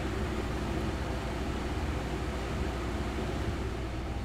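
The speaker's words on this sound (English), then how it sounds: "Sorry about the fan in the background." An electric fan running on a hot day in California, a steady, even whoosh of broadband noise that stays constant throughout with no other sounds.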